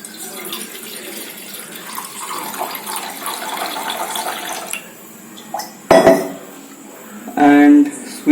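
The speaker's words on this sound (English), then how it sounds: "We have to pour some water." Tap water runs and splashes into a cooking pot in a home kitchen while chole is being prepared, a steady moderate wash followed by brief clinks of metal pans near the end.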